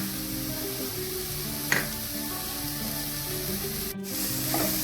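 Fried peanuts with ginger paste sizzle in a pan as they are stirred, a steady frying hiss broken by a couple of brief scraping strokes and a short sharp clatter near the end.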